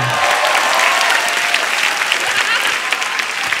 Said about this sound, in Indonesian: Oke, tepuk tangan sekali lagi untuk Babe.